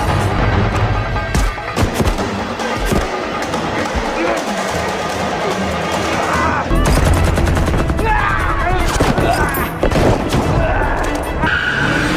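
Gunfire rattles through a chaotic shootout from the action film Operation Mekong, with dense bursts of shots, booms and vehicle noise mixed under shouting voices and music throughout.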